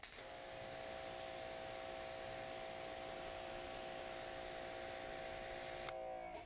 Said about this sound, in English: Let's rinse it off.